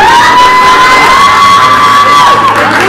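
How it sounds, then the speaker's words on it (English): Guests at a wedding in Hollister cheer loudly, with a sustained whoop riding over dense crowd noise. It is very close and saturated throughout, with no clear clapping standing out. "And a round of applause."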